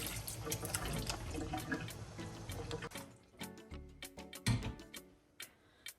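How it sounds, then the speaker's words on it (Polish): Cold tap water pours steadily over cooked Chinese cabbage, then breaks into sharper splashes and clicky drips as the stream is stopped and restarted. "przelać ją delikatnie zimną wodą, co zapobiegnie procesowi dalszego gotowania się"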